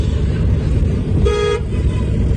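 A car horn gives one short, bright honk over the constant rumble of engines and road noise in city traffic, heard from inside a moving car.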